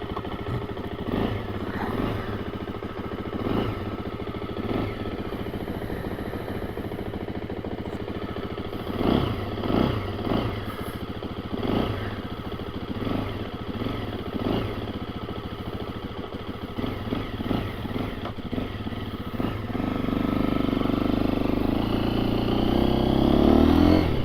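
A 2024 KTM 350 EXC-F dirt bike on stock gearing is ridden and accelerates, its engine note rising and falling through gear changes, then swelling louder near the end.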